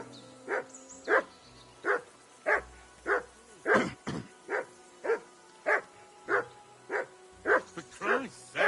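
A dog in Kingdom Come Deliverance 2 barks in a steady, repeated run of about a dozen loud, evenly spaced barks, close by, over a faint background hum.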